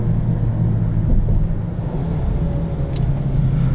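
A 2021 Mercedes-Benz GLB250 running under paddle-shift driving, heard from inside the cabin as a steady low engine drone with road rumble, no voices.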